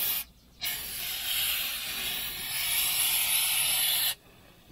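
Coil cleaner foams and hisses steadily on a dirty radiator, a loud continuous spray-like fizz lasting several seconds alone before cutting off abruptly.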